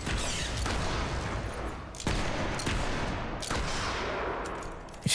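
Dense, continuous gunfire from the video game Fable 3 as bats are shot out of the air, loud overlapping bursts that surge in waves with brief dips between volleys.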